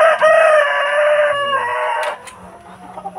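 A rooster crows loudly and close on a free-range chicken farm in the Philippine countryside, its long harmonic call breaking off, then followed by a few soft clucks and quieter farm sounds.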